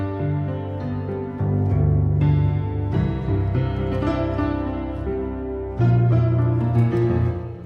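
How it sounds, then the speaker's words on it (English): An old, slightly worn piano played from the Soundiron Harmonic Tides sample library, sounding chords and notes alone, loud and close with sustained tones and no talk. "So just an old piano."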